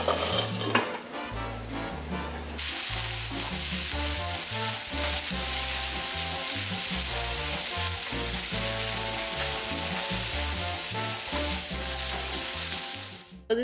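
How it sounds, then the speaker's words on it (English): Chicken fajitas sizzle while cooking in a pan, a steady, loud frying hiss that swells after a couple of seconds and runs to the end, with strong rhythmic music playing over it. "We're just going to let that cook for about 5 to 10 minutes."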